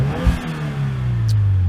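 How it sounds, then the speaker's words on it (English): A 2015 Subaru WRX engine revs in neutral with an aftermarket blow off valve, a steady mid-low engine drone rising slightly, with a brief sharp hiss of released air near the end. "As you can hear the blow off, it's actually a little bit louder."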